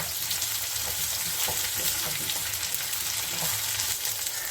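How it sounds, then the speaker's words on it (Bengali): Sliced eggplant fries in a pan with a dense, constant sizzle and occasional soft stirring, close and even, with no voices. "একটা বেগুন আমি এইভাবে কেটে এখানে এর সঙ্গে একটু ভেজে নেব।"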